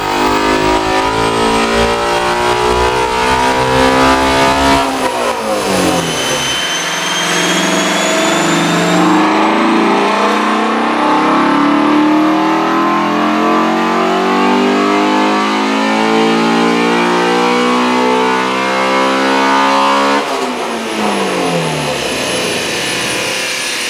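A stock 2019 Ford Mustang GT350 roars on a dyno during back-to-back pulls, the engine climbing loudly through the revs, dropping off, then climbing again to a high-pitched wail, with no voices.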